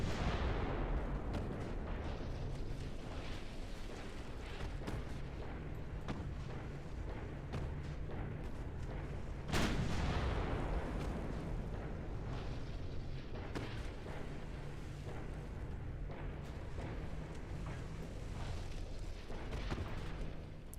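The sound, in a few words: warship guns firing in video game Ultimate Admiral Dreadnoughts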